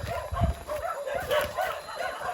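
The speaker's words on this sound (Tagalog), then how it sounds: "Maraming daming mga tahulan nila." Many dogs at an old man's house in Pakil, Laguna bark together in a busy, overlapping chorus of yips and woofs, fairly near and steady throughout.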